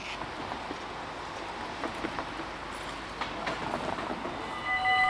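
A train shunting at Venlo station rumbles steadily at a moderate distance, the noise rising toward the end as it draws nearer, with a brief high tonal note near the close and no voices.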